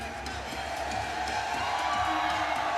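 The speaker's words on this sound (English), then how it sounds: "Big cheer going up from this crowd that you can't see on your screen" A crowd cheers at a South Africa versus England netball match at the 2010 Commonwealth Games, a steady, broad roar that swells slightly and holds loud for the whole stretch.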